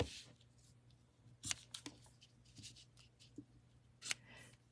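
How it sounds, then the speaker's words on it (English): Scissors trimming paper for a handmade moth card, a few quiet snips and rustles at close range over a low steady hum. "let's trim those off"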